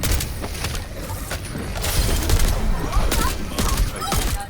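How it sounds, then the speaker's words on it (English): Rapid gunfire bursts from the Overwatch video game, a dense, continuous barrage of repeated shots with booms and clatter, loud and close throughout, with no voices over it. "You're spending too much time shooting at the tank."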